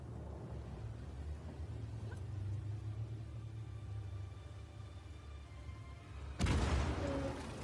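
A tank blows up from a bomb in Uncharted: The Lost Legacy, a sudden deep, loud explosion that breaks a long low rumbling ambience and leaves a noisy roar behind it.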